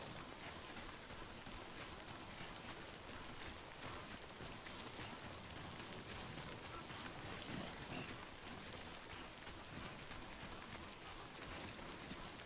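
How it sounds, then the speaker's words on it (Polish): Heavy rain in the video game Death Stranding, a dense, even hiss of falling water that stays constant and fairly faint for the whole stretch, with no voices. "ale deszcz mi przeszkadza"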